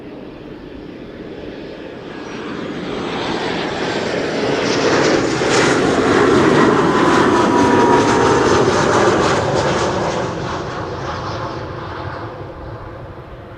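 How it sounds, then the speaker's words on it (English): An Embraer 190 jet airliner arriving at Schiphol Airport from Prague, its engine roar swelling steadily as it approaches, peaking loudly mid-pass and then slowly fading away. "Embraer 190 arriving from Prague."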